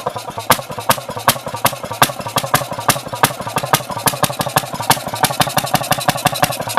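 Fairmont Model QB6 railroad engine running counterclockwise, with rapid, evenly spaced sharp exhaust beats at a brisk idle, loud and close, holding a steady mechanical rhythm.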